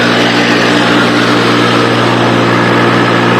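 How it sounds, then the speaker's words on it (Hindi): A tractor engine runs hard at high RPM, around 1800–1900, a loud, steady, continuous drone with a strong low hum and broad mechanical noise, close to the listener and without any talk over it. "ये देखो आपको पता चल ही पा रहा होगा कि कितना हाई आरपीएम पे चल रहा है ट्रैक्टर"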